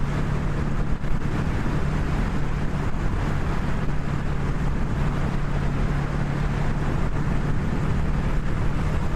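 A Honda Rebel 500 motorcycle accelerates back up to speed, its steady engine drone heard under heavy wind rush at roughly constant loudness throughout.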